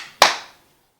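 One sharp, close hand clap, ringing briefly into a quiet room and then silence.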